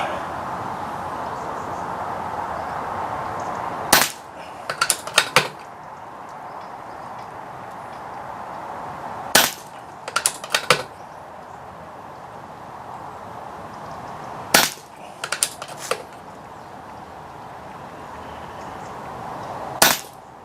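Air rifle firing BSA Target pellets outdoors at short to medium range, three bursts of sharp cracks spaced about five seconds apart, each a single shot followed by a quick cluster of smaller clicks, over faint wind noise.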